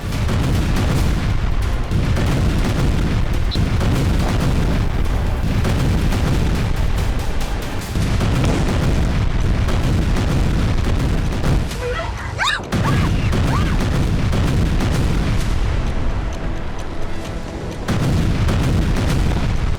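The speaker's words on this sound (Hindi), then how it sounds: "चौंकाने वाली तेज रफ्तार से एक मिसाइल ने तेल अवीव की इमारतों को तबाह कर दिया।" Missile strikes hit buildings in Tel Aviv, producing dense, continuous booming and rumbling explosions that fill the whole stretch loudly, with a few sharper bursts standing out.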